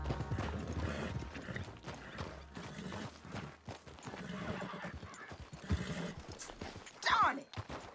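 Horse hooves clatter in a steady clip-clop with a sharp neigh near the end, under ongoing speech and background sound from Red Dead Redemption 2.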